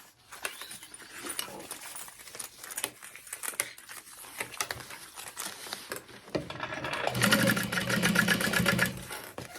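A sewing machine stitching the layers of a sling bag at a long stitch length, running in fast bursts of steady mechanical whirring up close, getting louder and steadier toward the end.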